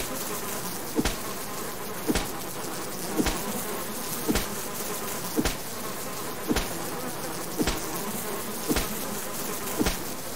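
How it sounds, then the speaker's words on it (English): A swarm of bees hums steadily around a hive in the survival video game Subsistence, a dense buzzing drone punctuated by regular sharp hits about once a second. "That's going to give us protection from the bees. And here is the hive."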